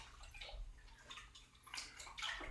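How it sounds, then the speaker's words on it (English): Running water rinsing leftover clay out of plaster molds, a soft, steady splashing and gurgling close by with no voices over it. "Then I take my molds and I wash them out"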